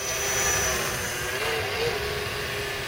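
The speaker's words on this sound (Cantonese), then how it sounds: "呢個叫大腳八，係 KK 版嘅直升機。" An RC model helicopter, a KK-version craft, flies with a steady high-pitched motor whine and constant engine drone, holding evenly loud throughout with no speech.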